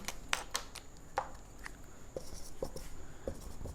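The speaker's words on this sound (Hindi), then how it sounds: "सवाल को लिखेंगे" A pen writes a question out by hand, giving quiet scratchy strokes and short taps in an irregular rhythm close by, with no talking over it.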